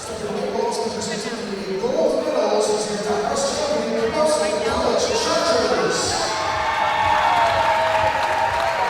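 A home crowd at a men's volleyball gold medal final applauds and cheers steadily throughout, with an announcer talking over the sustained clapping.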